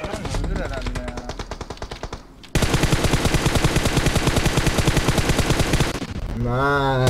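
Automatic gunfire in the mobile battle royale game PUBG Mobile, loud rapid bursts that start with a shorter volley, then a long sustained stream of shots, with a voice over the first part.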